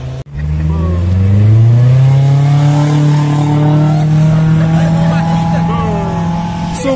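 A Volkswagen GTI engine revs hard and close, its pitch climbing then holding at a high, sustained roar at a lake, with no break for the full length.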